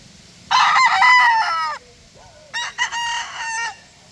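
A rooster crows twice nearby, each call a loud drawn-out cock-a-doodle-doo with a short gap between, over quiet background with no speech.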